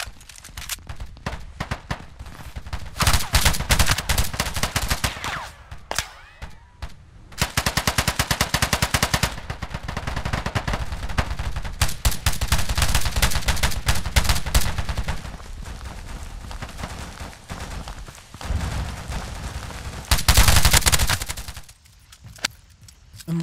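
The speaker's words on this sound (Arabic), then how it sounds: "لعبة إطلاق نار تكتيكية من منظور الشخص الثالث" Gunfire in the third-person tactical shooter game Rogue Company: loud, rapid automatic bursts and single shots keep up for over twenty seconds, with short pauses between volleys.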